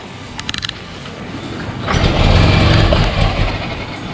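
A 1923 Ford Model T engine, first start in over 25 years, cranks and catches, building to a loud, steady rough running roar after a brief clatter at the start.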